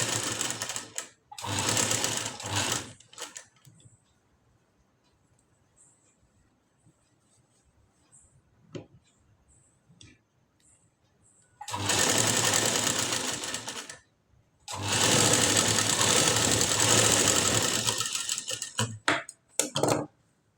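A sewing machine stitches a collar blouse in loud, fast mechanical runs: a short burst early on, then two long continuous stretches and a brief final run, separated by quiet pauses.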